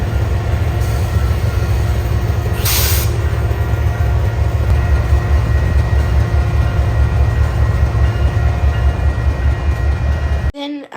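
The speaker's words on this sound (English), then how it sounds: "Amtrak 21 came down the hill with 55 leading, as I said earlier, my favorite P42" An Amtrak passenger train led by a P42 locomotive rolls past with a loud, steady rumble of wheels and cars, a brief bright squeal partway through, and the sound cutting off abruptly at the end.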